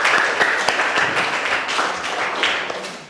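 Children applauding together in a classroom, a dense, fairly loud burst of many small hands clapping that holds steady and then tapers off near the end.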